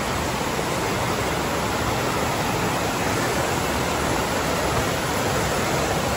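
Ganoga Falls, a 94-foot waterfall in Ricketts Glen State Park, gives a steady, dense roar of falling water that stays loud and even throughout.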